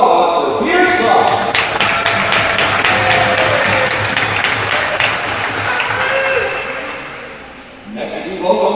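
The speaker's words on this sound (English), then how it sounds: "Please give a round of applause for Peter Scott." Audience applause at a college men's hockey ceremony at Adrian College, loud sustained clapping from a crowd in an arena, fading near the end before an announcer's voice resumes.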